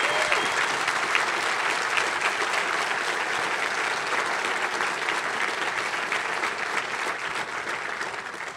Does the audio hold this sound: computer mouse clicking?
no